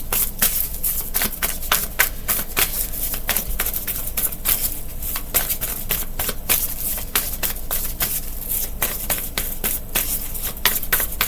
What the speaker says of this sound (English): Yeah, I gotta shuffle this deck really good